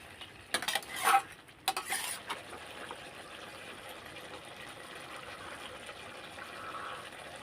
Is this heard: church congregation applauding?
no